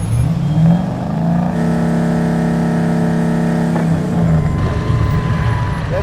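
A nearby car engine runs and revs up into a sustained, steady drone that holds for a couple of seconds before dropping back to a rumbling idle, with no speech.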